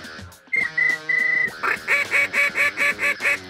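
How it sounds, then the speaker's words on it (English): Ducks and geese calling during a hunt: a long nasal honk, then a rapid rhythmic series of about eight loud goose honks, close and clear with no talk. "and lots of ducks."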